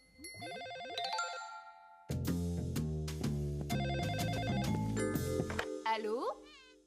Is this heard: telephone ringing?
yes